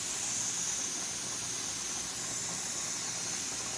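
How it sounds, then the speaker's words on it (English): Steam hisses steadily from a pressure canner venting on the stove while green beans and potatoes with meat are being canned, a continuous bright, even rush at moderate level with no breaks. "So we have a good head of steam going,"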